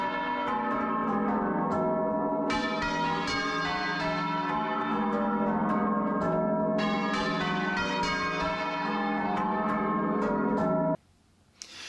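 Church bells ring half-muffled in a dense, continuous peal, the rounds alternating between clear ringing strokes and softer muffled ones, loud and close, before stopping abruptly near the end with a brief quiet tail.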